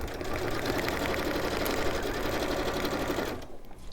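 A sewing machine stitches fabric in a steady, continuous rapid whir, close and prominent, running without pause before cutting off near the end.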